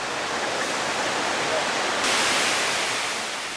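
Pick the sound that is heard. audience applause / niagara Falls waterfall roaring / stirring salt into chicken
niagara Falls waterfall roaring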